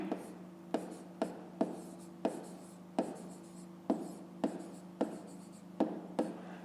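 A pen scratches on paper in short strokes, about a dozen quick taps and scribbles in an irregular rhythm, close and quiet over a faint steady hum.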